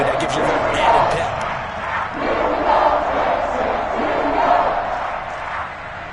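Home crowd cheering at a Madden 21 American football video game, a loud continuous stadium roar that swells and dips in waves, with a commentator talking over it.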